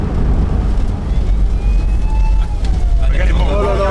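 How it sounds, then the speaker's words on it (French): An ambulance siren wails faintly in the distance as it approaches, its pitch sliding, over a steady loud rumble of traffic or engine noise, with a voice briefly rising near the end. "Il y a une ambulance qui arrive à nous."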